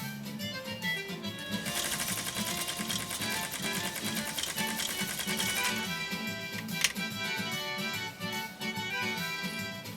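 A Necchi SuperNova sewing machine stitches through three layers of compressed felt with a steady, rapid mechanical chatter and a rhythmic whir, heard close and continuous throughout, with a faint click near the end.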